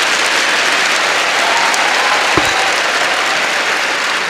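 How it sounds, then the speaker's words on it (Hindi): Loud, sustained audience applause from a large crowd of boys and girls at a motivational talk, a dense steady wash of clapping with no speech over it. "आप लोगों को खुद के लिए एक बार बहुत ज़ोरदार तालियां बजानी चाहिए खुद के लिए।"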